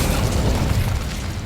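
An Incendio fire spell in Hogwarts Legacy erupts as a loud, dense whoosh of crackling flame and blast that fills the moment without pause.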